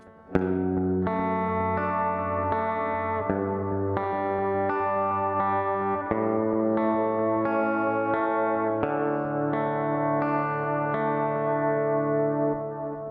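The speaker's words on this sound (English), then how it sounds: "we're just going to be still using a clean tone and just kind of following the chord progression" An electric guitar with a clean tone follows the chord progression of a song's verse, bright ringing arpeggiated chords changing every couple of seconds, steady and loud with no voices.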